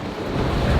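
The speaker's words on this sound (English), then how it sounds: "It's very windy out there" Strong wind buffets the microphone at Vlichada Beach on Santorini, a loud, steady roar blending with the sound of surf for under a second, with no voices.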